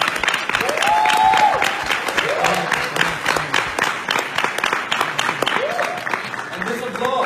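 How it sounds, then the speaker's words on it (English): Audience applause and cheering fill a Paris stage event for the OneCoin cryptocurrency business, with loud, dense clapping running throughout and raised voices and shouts cutting through the crowd noise. "And this applause is an applause for your work."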